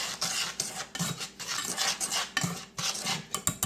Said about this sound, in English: Okay, I'm going to whisk it together.